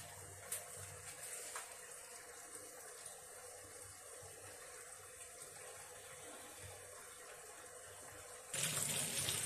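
An automatic washing machine fills with water, a faint steady rush of running water that swells noticeably louder near the end, with no voices.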